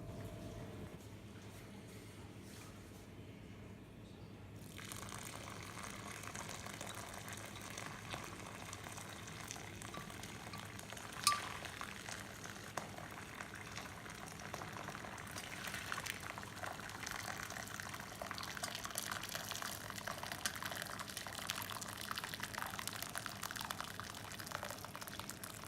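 Hot syrup poured through a chinois strainer over sugar after the heat is cut, a steady trickling, hissing liquid stream that starts quietly and grows fuller and denser, with one brief knock partway through.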